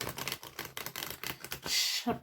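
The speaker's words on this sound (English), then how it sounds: "while I'm shuffling the cards" Tarot cards being shuffled by hand, a quick series of crisp riffling clicks and slaps, fairly close, ending in a brief bright hiss.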